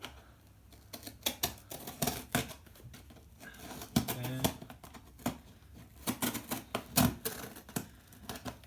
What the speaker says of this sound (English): I've got a knife and let's cut this thing open.